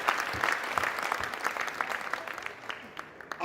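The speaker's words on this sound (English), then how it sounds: "Can we clap for the Uganda Police Force once again?" A crowd at an Africa Public Service Day ceremony applauds the Uganda Police Force: dense, fairly close clapping that holds steady for several seconds and then thins slightly toward the end, with no voices heard.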